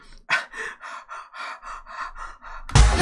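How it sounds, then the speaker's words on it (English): Rhythmic breathing used as percussion in a song, a regular series of about ten breathy gasps in a steady beat, close and clear, ending in a louder burst of noise. "the sexy constant breathing noise as a percussion"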